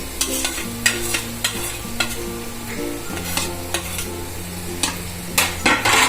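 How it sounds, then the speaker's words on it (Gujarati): About 200 grams of grated paneer stirred in hot oil for paneer bhurji, with a steady sizzle under repeated sharp spatula scrapes and clinks against the pan, close and fairly loud. "હવે આપણે એમાં નાખશું પનીર."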